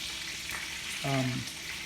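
Strips of bacon crackling in a pan on the stove, a constant close hiss and spatter with a brief tonal hum rising midway through.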